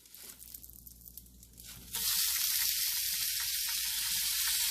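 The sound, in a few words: Steak-umm sliced steaks sizzling in a pan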